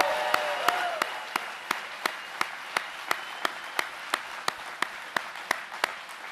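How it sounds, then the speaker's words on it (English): Applause for a nearly century-old manufacturing company at a political rally in Kansas City, with about two dozen sharp, evenly spaced claps over a soft crowd wash, a faint voice briefly audible early on. "How about a big round of applause for the Milbank?"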